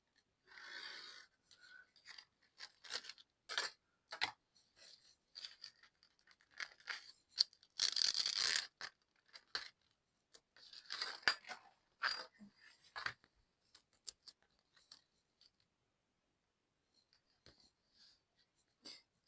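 Paper is cut in two with scissors at a scrapbooking table for a colourful wedding album, giving a run of crisp snips and rustles with short pauses, quiet and close.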